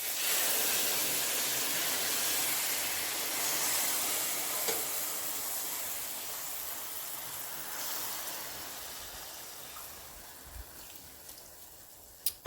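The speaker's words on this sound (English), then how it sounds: "I have some beef broth on the side, and I'm going to start ladling this in." Beef broth ladled into rice in a steel pan while it simmers for a Neapolitan sartù, a steady broadband sizzle and hiss with soft stirring, fairly constant and gradually easing, a few small clinks near the end.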